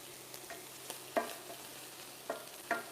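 Garlic cooks in a pan, with a soft continuous sizzle broken by a few light stirring clicks and scrapes; quiet and close, with no talking.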